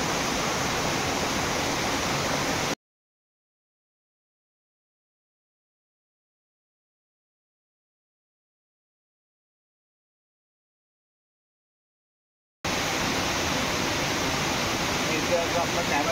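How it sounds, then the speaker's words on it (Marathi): Loud, steady rushing of flowing water at an outdoor nature spot, a close, dense roar that cuts out completely for about ten seconds in the middle and then returns just as strongly, with no talking. "कारण पाण्याचा आवाज जास्त आहे जरा।"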